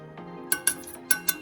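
A spoon knocking against a pot while tea ingredients are stirred, with four sharp metallic clinks in quick succession over quiet background hum.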